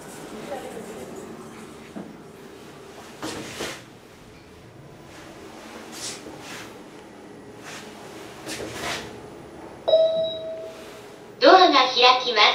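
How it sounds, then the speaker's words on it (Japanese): An elevator at the Tsukuba Express Tsukuba Station bus terminal runs with soft clicks and mechanical movement. Its doors close to chimes and beeps, and a recorded voice gives the announcements. "ドアが閉まります。"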